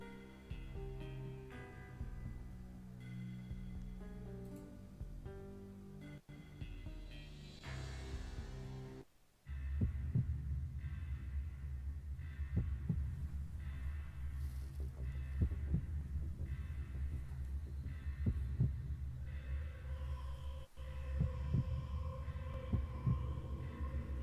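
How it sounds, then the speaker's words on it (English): Heartbeat sound effect from the video game Max Payne, a steady low throbbing pulse that repeats evenly and loudly over a droning hum, alone without speech. "the heartbeat sound effect is never gonna not crack me up"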